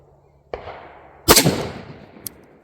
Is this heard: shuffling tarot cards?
no